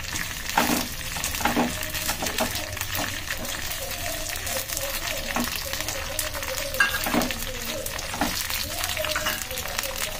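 Fresh grated coconut frying in a pan gives a soft, continuous sizzle with intermittent stirring scrapes, heard close up under a speaking voice.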